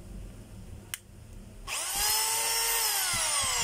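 A Shr263 rotary hammer runs in drill mode after repair with a new armature and brushes. A brief click comes first, then the motor spins up into a loud, steady, close whine with a rising pitch that holds, and no talk.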